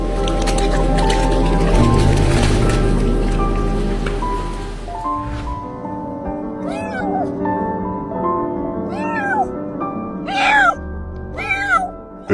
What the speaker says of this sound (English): this little homeless kitten loudly cried for help.